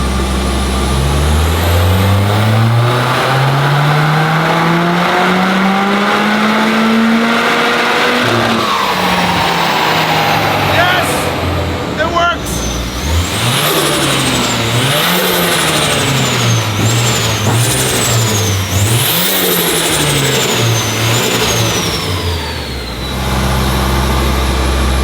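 A Nissan S15 drift car with a Toyota four-cylinder engine is driven hard at a drift event, loud and close, with long climbing revs, sharp repeated throttle blips and bouncing limiter bursts as it slides.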